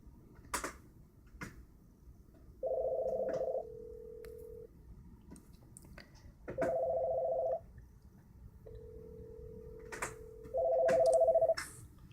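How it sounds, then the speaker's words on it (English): Software VoIP phone call between two networked computers: rapid touch-tone dialing beeps, then repeated two-part ringing tones alternating with a steady ringback tone, clear and alone with no talk. "As you will see, Apple 2's phone is ringing,"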